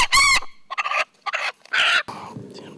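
A trapped chicken in Key West squawks and clucks in loud, agitated bursts, several sharp calls separated by short pauses, fairly close.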